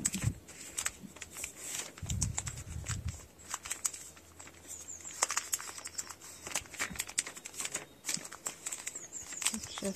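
Paper being folded and rolled by hand while making a paper basket gives soft, intermittent crinkling and rustling handling sounds, close and quiet, with a brief low thump near the start.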